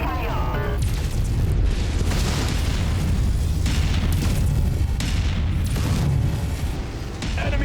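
A destroyed mech blowing apart in the video game MechWarrior 5, a loud sustained boom and rumble of explosion filling the whole stretch, with a voice talking over it.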